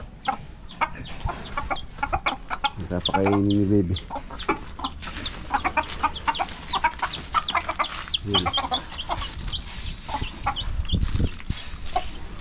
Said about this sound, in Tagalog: Hindi ko alam anong lahi po itong manok na to.